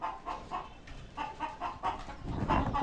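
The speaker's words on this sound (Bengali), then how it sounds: "এপারে ওই একটা মোরগ দেখতে পাচ্ছি, অনেক বড় একটা মোরগ" A run of soft, rhythmic clucks from a large rooster nearby at a pigeon farm, repeating every fraction of a second over a low, rumbling outdoor background.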